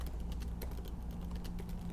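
Keystrokes on a computer keyboard while renaming a file in Figma, a quick irregular run of soft clicks close up over a steady low hum.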